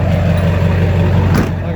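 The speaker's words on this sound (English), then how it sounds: "there's a trash truck right behind me here making a bunch of noise" A garbage truck idles and runs close by outdoors, a loud, steady low diesel rumble with a brief hiss partway through, dominating the short stretch.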